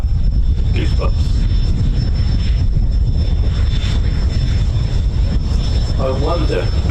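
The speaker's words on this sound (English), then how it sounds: "You can hear Spitfire coming, and you know it's MH434." Spitfire MH434 flying past at an airshow, a steady loud engine roar filling the whole stretch, with a commentator talking over it near the end.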